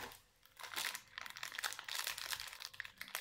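Oro Choc chocolate biscuit packets being torn open, with dense crackly plastic wrapper crinkling in bursts close to the mic over about three seconds, and no talking.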